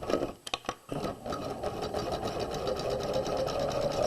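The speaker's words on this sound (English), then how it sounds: "Now we'll stitch the sleeve to the bodice back" A home sewing machine stitches a sleeve to a bodice back along a quarter-inch seam, a steady close whirring run after a few brief starts, continuing alone throughout.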